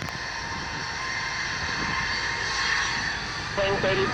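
JetBlue jet airliner on a rolling takeoff at Fort Lauderdale, a steady broad engine roar held at moderate distance throughout, with faint air traffic control radio chatter breaking in near the end.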